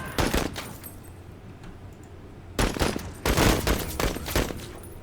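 Gunfire from a tactical video game sniper, Pike, in two broadband bursts separated by a quieter stretch: a sharp volley at the start, then a dense run of rapid shots in the second half.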